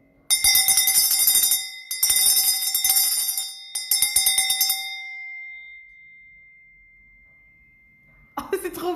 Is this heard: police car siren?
no